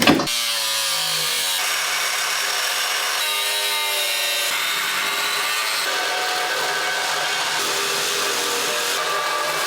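An abrasive cutting tool slices through metal for a trailer hitch build with a continuous loud, harsh grinding whine whose pitch shifts as it bites, running close up and alone without talk.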